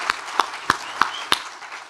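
Audience applause for a speaker at a talk on communicating with data: five sharp claps land at an even, steady pace, fairly close and moderately loud, with no talking over them.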